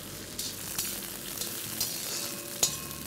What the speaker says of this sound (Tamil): நீங்கள் கத்திரிக்காய் இது மாதிரி ஆயிலில் ரோஸ்ட் பண்ணிங்கன்னா முக்கால்வாசி வந்துடும்